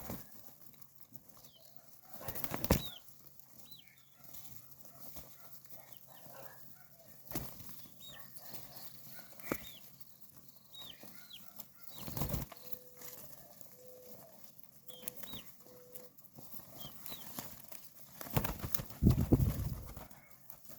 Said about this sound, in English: Here's come the pigeons.